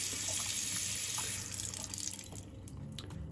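Water runs from a bathroom tap into a sink during washing up after a shave, a steady close hiss and splatter that softens slightly toward the end.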